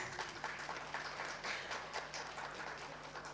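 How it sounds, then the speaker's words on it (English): Audience applause for a chief guest at an HR leaders convention and awards event, a steady, fairly faint patter of many hands clapping from a distance, with no voices over it. "Give them a big round of applause, guys."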